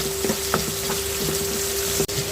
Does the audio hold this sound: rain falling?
no